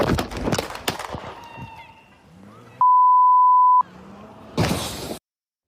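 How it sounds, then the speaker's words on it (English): A steady, loud electronic censor bleep covering expletives lasts about a second, cutting abruptly in and out between stretches of muffled shouting and commotion at a protest arrest. "The beeping tone you heard was to cover up some expletives"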